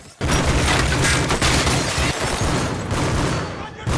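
Gunfire crackles through a film action scene as a chase breaks out, a dense run of close, loud shots and booms packed together over a rumbling backdrop.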